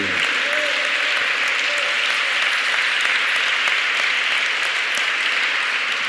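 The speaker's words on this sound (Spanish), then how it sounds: "Dele un aplauso al Señor." A church congregation applauds steadily during a Spanish-language sermon, a dense, even wash of many hands clapping at full volume for about six seconds without a break.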